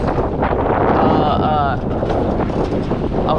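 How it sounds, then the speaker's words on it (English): Strong wind buffeting the microphone aboard a Catalina 22 sailboat under unreefed sail, a loud continuous roar with water rush, and a brief tonal whine partway through. "There's the wind taking me."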